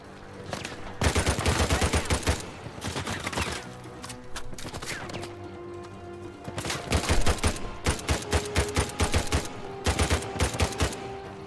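Gunfire in the Uncharted 4 video game, with repeated rapid bursts of automatic shots and single cracks that come in clusters throughout, loud and close, with no talking.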